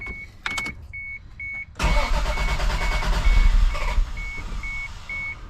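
A car engine cranks and catches, then settles into a steady idle while repeated electronic warning beeps chime over it, close and fairly loud.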